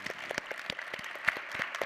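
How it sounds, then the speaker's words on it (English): An audience claps in applause at the close of a poetry conversation event at AWP24, a dense patter of hand claps sustained fairly evenly through the whole moment, moderately loud and heard alone without talk. "Just another round of applause for our amazing,"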